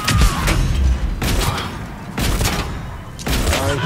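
A grenade explodes and hits the player in Mass Effect 3 multiplayer: loud, close booming blasts and rumbling gunfire in repeated bursts, filling the whole stretch.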